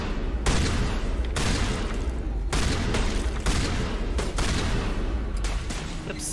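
Gunfire in the Mass Effect Legendary Edition video game, rapid bursts of weapon shots in several dense volleys with brief pauses between them, loud and continuous over noisy combat ambience.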